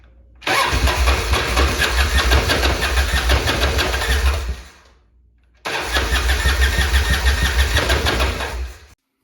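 A 1998 Harley-Davidson Softail Custom fitted with a new Thunder Header exhaust cranks and fires into a loud, deep rumbling run, cuts out for about a second, then starts again and rumbles steadily before shutting off.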